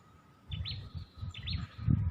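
Two short, rising calls of a waterhen sound from some distance near a swampy pond, one shortly after the other, over a low rumbling background.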